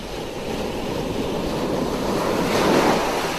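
Wild sea surf rolls onto a pebble beach, a steady broadband wash with gusty wind noise across the microphone, swelling to a louder breaking wave near the end.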